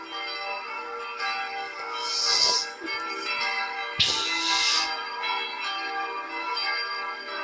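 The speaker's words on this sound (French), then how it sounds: "il y aura que les cloches 1, 2, 3, 4 qui sonneront" Church bells ring in a Minecraft-style game during an inauguration mass at a chapel, a sustained, full peal of overlapping bell tones with two brighter clanging surges, continuous throughout with no talk.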